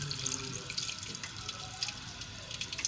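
Water poured from a glass into a pot of mashed potatoes, a steady close trickling and splashing stream without any talking.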